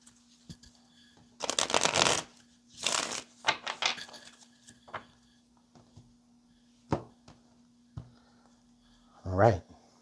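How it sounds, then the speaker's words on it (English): Tarot cards are shuffled in several quick riffling bursts near the mic, followed by lighter taps, with a steady background hum and a voice briefly speaking near the end. "All right, Aquarius, one more shuffle."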